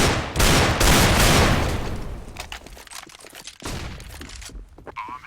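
Heavy gunfire in a Counter-Strike LAN match, a dense rapid fusillade of loud shots up front, then scattered single cracks and short bursts trailing off.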